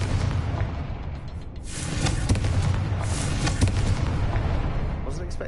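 A Confringo fire-blast spell from Hogwarts Legacy bursting amid a steady roar of game effects, with two swelling blasts, one early and one midway, over continuous rumbling.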